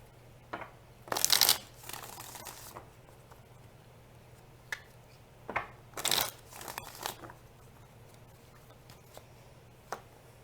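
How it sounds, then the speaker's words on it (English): Tarot cards being shuffled up close in a quiet room, a few short crisp riffling bursts with soft papery handling and taps between, and a low steady hum underneath. "Let's shuffle up these cards and kind of see what's happening for pile number 1."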